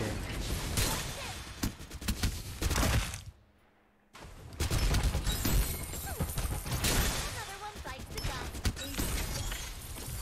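AK rifle gunfire in the Farlight 84 game, dense bursts of loud close shots and impacts filling most of the span, with a brief quiet gap partway through and faint talk underneath.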